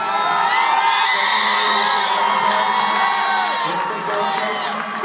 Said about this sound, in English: Listen to Woody yelling